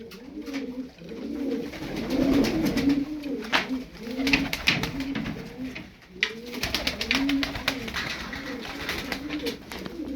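A domestic Dumanlı breed pigeon coos repeatedly in rolling, throaty phrases close by, with soft rustling and faint background noise, no voices.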